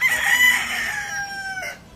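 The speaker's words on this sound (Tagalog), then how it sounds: "May mga buhing manok, oh." Live chickens at a Filipino barbecue restaurant in Pulilan, a rooster crowing loudly and close with a long drawn-out call, alongside brief clucks.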